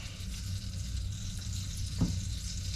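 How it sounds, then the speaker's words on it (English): Soft, steady sizzling of oil and butter in a hot pan, a continuous crackle with a faint clink partway through. "Starting to sizzle a little bit."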